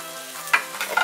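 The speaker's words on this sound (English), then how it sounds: "You really want to make sure the onion caramelized properly." Onions caramelizing in a pan give a soft, close sizzle broken by quick spoon scrapes and stirring clatter near the end of the short stretch, with no talking.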